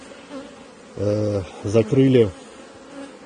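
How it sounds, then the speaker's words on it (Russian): Honey bees cluster and cover a queen shipping cage placed in a nucleus split, giving a steady close buzzing hum with a few louder swells and one brief spoken word. "не агрессируют пчелы на клеточку, они ее облепили"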